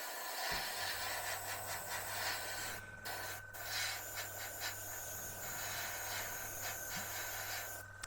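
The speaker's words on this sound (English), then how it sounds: "you flick the airbrush up, the paint obviously goes down, and you end up with that streak" Steady airbrush hiss spraying paint onto a Tamiya M1A2 Abrams scale model, continuous and close with a faint hum underneath and brief pauses between passes.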